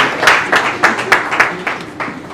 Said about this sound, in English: please applaud him one more time